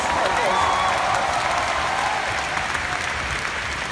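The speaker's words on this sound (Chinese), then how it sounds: "所以掌声不是太够。" An audience at a Hong Kong company annual conference applauds in a steady wash of clapping from many hands. It holds at an even, moderate level for about four seconds.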